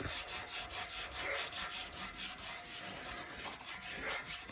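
A cloth rubbing over the chrome headlight ring of a decades-old car coated in years of grime, a close rhythmic wiping swish repeating steadily several times a second, with no voices.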